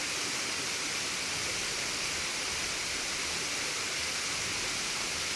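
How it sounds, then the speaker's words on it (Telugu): Katiki waterfall near Araku roars as a steady, dense wash of falling water, constant and loud with no breaks or voices. "one of the most beautiful water fall"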